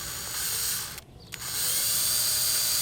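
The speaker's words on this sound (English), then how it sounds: "The 3 holes that it has is where you're gonna drill." A power drill bores holes for a fender eliminator bracket on a 2023 Yamaha R7, a steady whirring drone that briefly drops out mid-way before resuming, close and loud with no speech.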